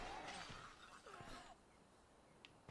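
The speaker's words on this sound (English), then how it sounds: "Hey, guys, you hear the glass breaking?" Glass shatters loudly in State of Decay and rings out in a short crash. The crash thins into a quiet tinkle of falling shards and ends with a single faint clink.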